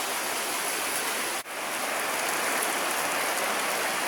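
Steady, dense rain falls outdoors during a front wheel bearing job on a 2002 Honda Civic (Acura EL), a continuous close hiss with one brief dip partway through and no talking.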